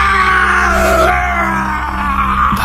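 A woman screams in a Hindi horror story drama, a loud sustained anguished cry over droning background music, shifting pitch partway through.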